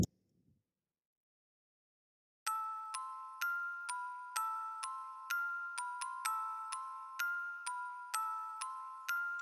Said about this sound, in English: the next one I added was a bell for the hook, which sounded like this.